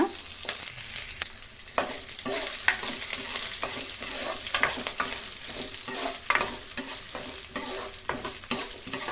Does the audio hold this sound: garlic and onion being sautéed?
yes